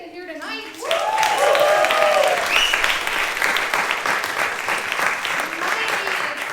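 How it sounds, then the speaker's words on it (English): An audience at a live comedy showcase breaks into loud, sustained applause and cheering that swells quickly and then keeps going. A voice speaks briefly at the start. "Give yourselves a round of applause for making it here tonight"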